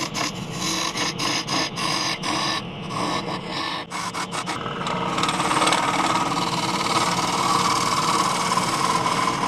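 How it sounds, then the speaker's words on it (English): Lathe scraper hollowing a punky, wet spalted alder bowl, giving steady rasping, chattering scrapes with brief pauses early on, then a continuous grinding drone toward the end, close and alone. "Now it was a simple matter to use the scraper to go all the way to the bottom."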